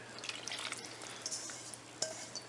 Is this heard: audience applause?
no